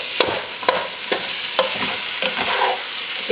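Ground turkey browning with onions in a skillet, a close, steady sizzle broken by repeated scraping stirs every half second or so.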